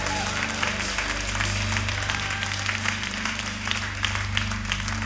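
A church congregation applauds and cheers during a worship service, a steady wash of clapping and crowd noise held for several seconds over a low sustained musical drone.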